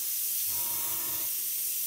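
Airbrush spraying paint for a weathered jet finish, a soft hissing burst of about a second over steady background noise.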